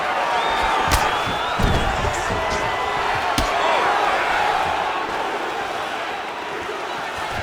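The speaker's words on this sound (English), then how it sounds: "Crowd continues to sway with every huge shot being landed." In the EA Sports UFC 5 fight game, an arena crowd roars and murmurs in a sustained swell as punches land, with a few sharp thuds of strikes punctuating the continuous crowd noise, moderately loud.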